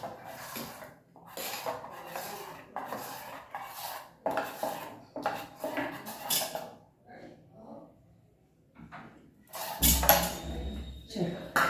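A spoon scrapes and clatters against a bowl as dhokla batter is stirred with buttermilk, in repeated bursts of rubbing strokes with pauses, then a sharper knock near the end.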